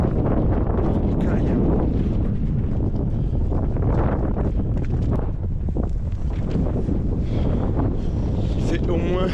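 Strong mountain wind buffets the microphone on a high pass above Beaufort during the TDS trail race in 2023, a constant loud roaring rumble with gusty swells, while a voice speaks briefly over it.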